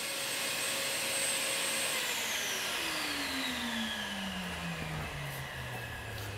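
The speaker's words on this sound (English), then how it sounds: "these other vacuums are significantly louder" A vacuum cleaner runs continuously at moderate distance, its steady roar joined by a whine that drops smoothly in pitch as the motor winds down.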